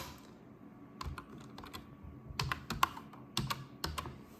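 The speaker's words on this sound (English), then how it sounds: "Now I enter my username here." Keys on a computer keyboard clatter in irregular bursts of quick taps, close and fairly quiet, as a username is entered.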